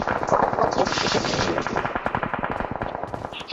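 Rapid automatic gunfire in a shooter video game, loud and close, a fast rattling stream of shots with short breaks, continuing over most of the stretch before thinning toward the end, with a voice faintly audible beneath.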